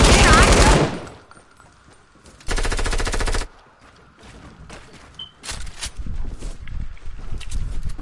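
Bursts of rapid automatic gunfire in the video game Fortnite: a loud burst at the start, another sustained burst in the middle, then busier mixed shots and game noise toward the end.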